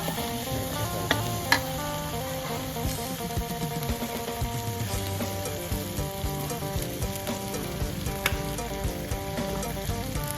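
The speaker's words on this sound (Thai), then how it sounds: "เดี๋ยวก็จะใส่น้ำมันลง แล้วจะใส่พริกแกงตะเลย" Thai curry paste sizzles in hot oil in a pan for a spicy herb stir-fry of field rat, a steady close frying hiss with occasional stirring, and music playing underneath.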